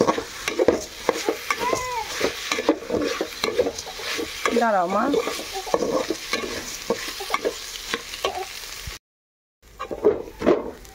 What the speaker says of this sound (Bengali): চালটা সুন্দর মতো ভাজা ভাজা করে নিতে হবে।